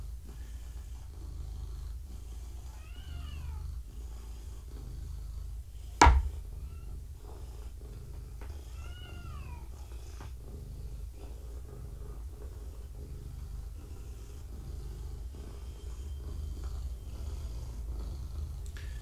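Several house cats purring at home near a mother cat and kittens, a soft continuous low rumble running steadily throughout, with one brief sharp click partway through and faint chirps above.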